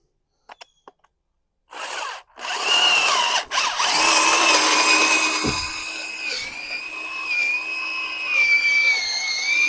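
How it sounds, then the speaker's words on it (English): Power drill boring into maple hardwood with the operator bearing down, a loud, steady whining grind that starts after a few brief taps and runs continuously, with slight pitch dips as the bit bites. "putting pressure on the drill to help hold it down and make the cut"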